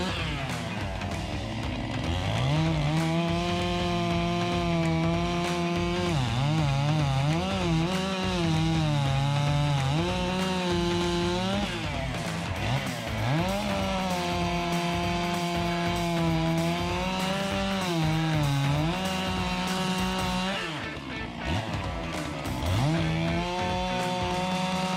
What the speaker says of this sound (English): This saw is making short work of this 30-foot, 12-inch round sugar maple.